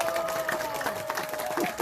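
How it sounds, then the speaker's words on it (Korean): Audience applause at a Gwangju book concert welcoming a student singing club, a short steady burst of clapping from the crowd with a thin sustained tone running beneath it. "여러분, 시민 여러분, 힘찬 박수로 환영해 주시기 바랍니다."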